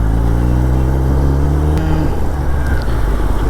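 A Kawasaki ZX10R motorcycle engine drones steadily close by, its pitch rising and then easing off around the midpoint as it accelerates and shifts.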